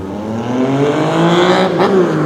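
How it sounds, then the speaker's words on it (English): Motorcycle revving hard on a street at night, a loud close engine roar whose pitch climbs and wavers across the rev, with no talk over it. "It's a motorcycle."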